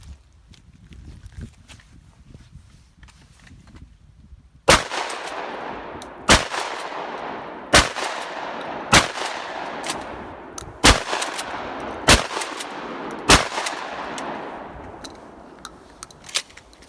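Mossberg 500 Bantam 20 gauge tactical shotgun fired outdoors, seven loud sharp blasts spaced about one to two seconds apart, each trailing off into a brief echo, after a few seconds of quiet background.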